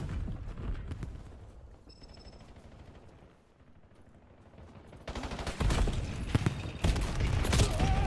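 Grenades explode in the video game Call of Duty Black Ops 7: dense bursts of game gunfire and blasts, with a loud, sustained crackling barrage taking over in the second half.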